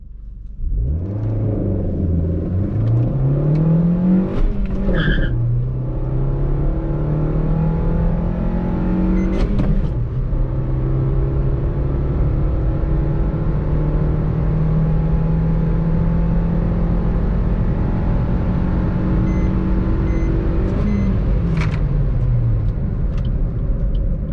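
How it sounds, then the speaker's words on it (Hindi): A Maruti Suzuki Swift petrol car accelerates hard from a standing start with wheel spin, its engine loud and close as it climbs through several gear changes in one long continuous run. "अभी हम सेकेंड अटैम्प्ट करते हैं पेट्रोल का व्हील स्पिन कुछ ज़्यादा ही हो रहे हैं"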